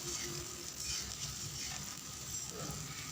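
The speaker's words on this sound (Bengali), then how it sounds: "দিয়ে দিলাম পেঁয়াজটাকে একটু ভাজা ভাজা করে নেব যতক্ষণ না পেঁয়াজের রঙটা লাল লাল" Chopped onions fry in a pan with a steady, close hiss of sizzling oil that holds at an even level throughout.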